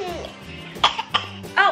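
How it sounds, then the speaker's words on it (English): A sick toddler coughs in several short, sharp bursts, close to the microphone, with soft adult talk and a voice in between. "Cover your mouth when you cough."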